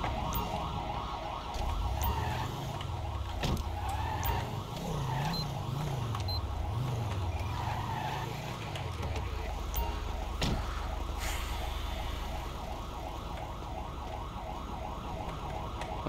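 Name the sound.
ambulance siren in a video game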